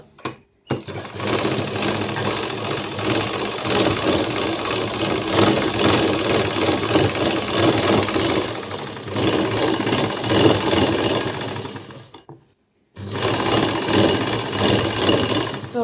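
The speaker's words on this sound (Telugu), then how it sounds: "చక్కగా ఒక్కొక్క స్టిచ్ వేసుకుంటే అయిపోతుంది." A sewing machine stitches the neckline of a lined blouse, running continuously with a loud, even rattling drone, briefly pausing near the start and again toward the end before resuming.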